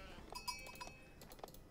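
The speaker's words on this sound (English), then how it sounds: "we find some sheep over here" Sheep in the Age of Empires 4 strategy game let out a few short, faint bleats, spaced irregularly over quiet in-game ambience.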